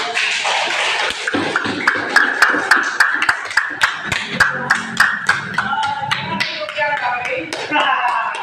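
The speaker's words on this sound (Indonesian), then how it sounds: "tepuk tangan dulu." Applause at a school teachers' dissemination session on positive culture: a steady run of sharp rhythmic claps, fairly close and loud, with voices talking and calling out over the clapping throughout.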